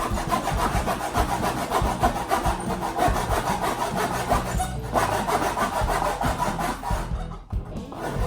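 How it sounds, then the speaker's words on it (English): A hand saw cuts fret slots into wood held in a fret template guide, giving steady rasping back-and-forth strokes up close and loud for most of the stretch, then a brief pause near the end. "it's as simple as putting the saw down in the slots"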